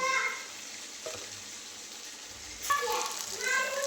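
Sabudana vadas deep-fry in hot oil, with soft bubbling and intermittent sizzling bursts that swell and fade at moderate loudness.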